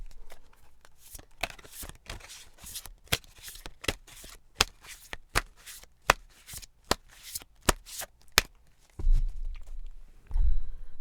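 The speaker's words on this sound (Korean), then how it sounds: "셔플 들어갈게요." Tarot cards being shuffled by hand, a series of crisp riffling bursts at a regular rhythm, close and clear, followed by softer rustling and handling at the end.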